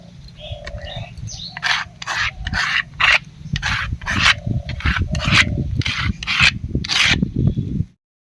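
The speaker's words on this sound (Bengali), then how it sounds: "এখানে আমি এক কাপ মতো আতপ চাল আগে থেকে ভিজিয়ে রেখেছিলাম এটাকেও বেটে নেবো" Soaked rice is ground into a paste on a traditional grinding stone with a series of rhythmic, gritty back-and-forth scraping strokes, close and fairly loud, that stop abruptly at the end.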